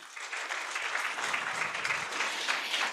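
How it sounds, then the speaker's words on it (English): Dense, steady applause from a symposium audience honoring speakers and panelists at the close of a session, a continuous wash of clapping filling the whole stretch. "Let's appreciate our speakers and panelists for this session 5 with a round of applause."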